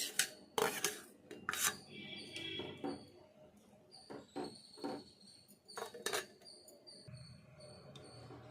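A spoon stirs roasted semiya into a pot of payasam, giving soft close scraping and clinking against the pot in uneven strokes with a faint voice now and then.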